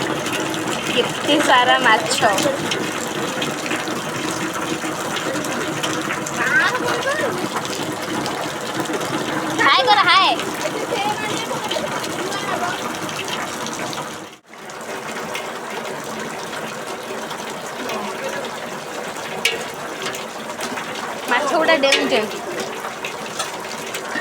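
Heavy rain pours down outdoors, with rainwater running where fish are being washed along, making a continuous, loud broadband hiss that persists under excited speech, broken only by a brief dip partway through.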